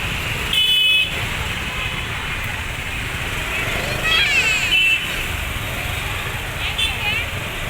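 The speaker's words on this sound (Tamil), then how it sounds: "அப்படியே பின்னாடி பாருங்களேன் எவ்வளோ டிராஃபிக்னு." Busy road traffic during Dasara in Mysore, with vehicle engines droning steadily and a few short car or motorbike horn toots breaking through, while people talk nearby over the traffic.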